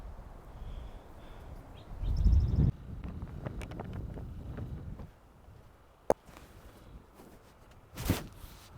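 Wind gusts across an open golf course, buffeting the microphone in uneven rumbling surges, with a few sharp knocks and brief bursts standing out from the steady blustery background.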